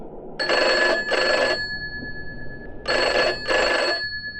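An old-style telephone bell rings in two double bursts, a pause separating each pair, loud and close with a steady electronic tone lingering between rings.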